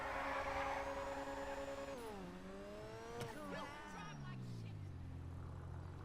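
In a video game, a car engine revs through shifting tones that drop and climb with gear changes, and a brief tire squeal is heard partway through.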